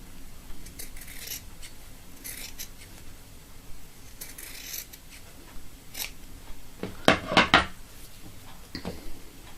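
Fabric is trimmed with scissors around a sewn button loop, a series of close, crisp snips scattered across the clip, with a louder burst of quick cuts near the end.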